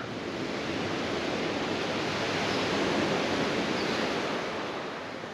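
Continuous roar of Black Sea surf at Lazarevskoye, Sochi, a broad steady wash of breaking waves swelling slightly in the middle, with no voices.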